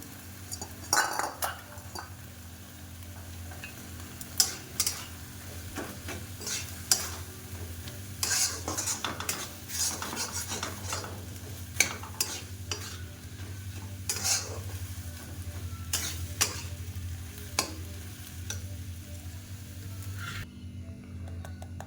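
Pre-boiled lentils go into oats khichuri cooking in a pot, stirred with a spoon that scrapes and clinks steadily against the metal over a soft, continuous sizzle for a long stretch.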